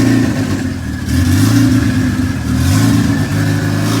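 Turbocharged all-wheel-drive Honda engine revving hard on a dyno with a race 2-step launch limiter, a loud, continuous, harsh engine roar with brief dips and surges, no talking.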